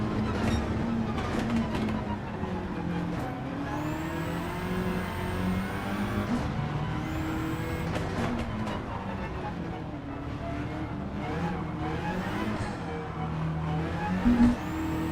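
Racing car engines in a video game race, with a car closing in from behind. The engine pitches sweep up and down over a steady drone, close and continuous, with short bursts of revving.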